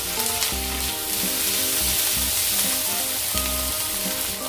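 Garlic, onion and vegetables sauté in a pan for chop suey, giving a loud, continuous sizzle with a low rumbling hum running underneath.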